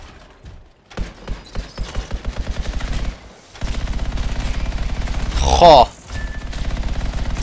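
Rapid autocannon bursts from the game Anthem fire in steady, evenly spaced rounds, first a short volley, then a longer sustained stream after a brief pause, loud and close, with a single short exclamation from a voice.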